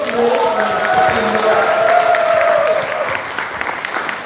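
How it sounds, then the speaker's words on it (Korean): A crowd at a political lecture by a National Assembly member applauds steadily and loudly for several seconds, the dense clapping mixed with a few raised voices and cheers. "다시 한번 박수 한번."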